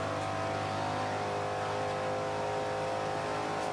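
Shelby GT500 in Forza 5 accelerates in a steady, continuous engine drone with a rising rev tone, loud and alone with no talk over it.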